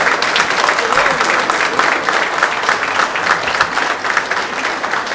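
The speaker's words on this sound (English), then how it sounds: "So stand up and give him a round of applause" Sustained audience applause at a fashion show event, a dense, steady wash of many hands clapping close by for the full five seconds, with some voices mixed in.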